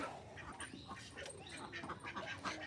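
A flock of domestic ducks, Chinese and common ducks, quacking outdoors, their calls mixed into a busy, noisy background at a moderate distance.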